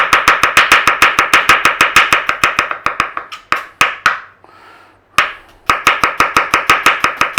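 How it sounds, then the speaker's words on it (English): Sharp, rapid knife chops on a cutting board as small red onions are sliced for a Nam Jim Jaew dipping sauce, a steady close rhythm that pauses briefly midway with some handling noise before resuming. "We've got some little red onions and we want some slices"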